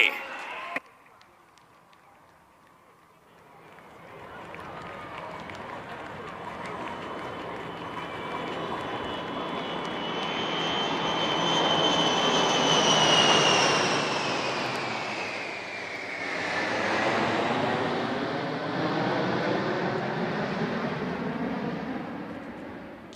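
An Indian Air Force formation of military aircraft passes over Marina Beach in Chennai at an air show, a loud roar swelling from far off to a whining peak and then slowly fading away.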